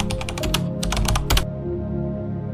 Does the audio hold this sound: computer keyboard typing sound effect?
yes